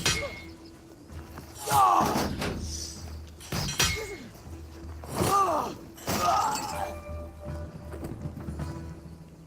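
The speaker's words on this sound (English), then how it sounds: "Someone is ringing the alarm bell." An alarm bell in the VR game Assassin's Creed Nexus VR clangs loudly in a few separate bursts of metallic ringing, each strike fading before the next.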